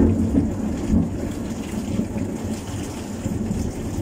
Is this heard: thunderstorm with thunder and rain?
yes